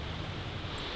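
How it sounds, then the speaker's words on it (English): Strong wind roars steadily across an open dusty trail in Alaska, a dense, continuous rushing buffet against the microphone with no voices. "It is so windy."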